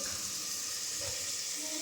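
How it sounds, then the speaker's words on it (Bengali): Chopped vegetables for pav bhaji fry in a pan, giving a soft, continuous hiss of sizzling heard close by for a couple of seconds. "এখানে চাপিয়ে দিয়েছি সবজিগুলোকে একটু ভাজার জন্য"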